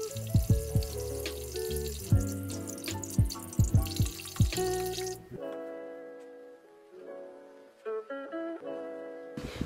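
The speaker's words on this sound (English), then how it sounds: "Wash hands thoroughly with soap and water." Hands washed with soap and water at a tap, running water splashing and dripping loudly for several seconds, then thinner trickles and drips as the flow eases.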